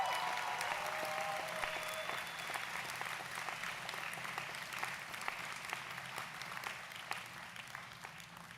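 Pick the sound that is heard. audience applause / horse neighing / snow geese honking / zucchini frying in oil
audience applause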